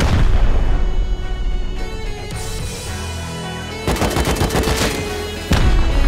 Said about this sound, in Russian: Слева враг с ракет стреляет